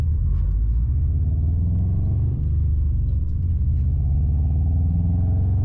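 A loud, steady Subaru STI engine rumbles and drones throughout, with low-pitched roar and no pauses.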